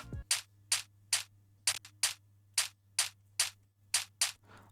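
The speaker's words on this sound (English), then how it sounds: "I have my snare." A programmed snare sample in FL Studio hits about a dozen times in a loose beat pattern, each short crisp crack standing clear over a low steady hum, heavily compressed and EQ'd, with no talk.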